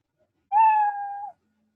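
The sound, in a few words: cat meow sound played in Scratch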